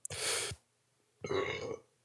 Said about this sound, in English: Quick little burp.